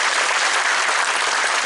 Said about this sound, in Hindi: और एक बार ताली बजा